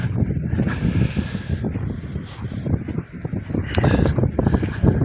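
Loud, gusty wind batters the microphone continuously in a cornfield during a frost, a rough, rumbling roar that surges and eases without letup.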